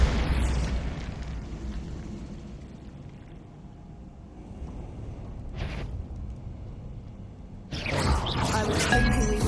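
Bombarda explosion spell in the video game Hogwarts Legacy, a deep rumbling blast that fades to quiet, a brief burst midway, then a second sharp explosive crack near the end.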